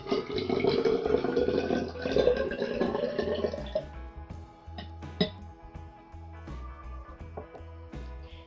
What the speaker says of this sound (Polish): Teraz przelejmy z powrotem naszą wodę do cylindra